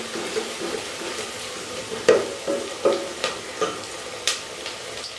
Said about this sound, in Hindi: प्याज को मैं लाइट ब्राउन करूंगी